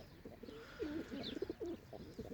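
Pigeons coo softly in low, rolling calls, several birds overlapping nearby in a garden loft, with faint rustling in the background.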